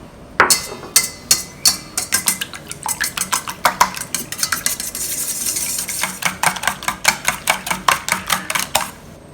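Seven eggs and salt are beaten in a bowl: a fast, steady run of sharp utensil clicks against the bowl, loud and close, continuing for several seconds with no talking.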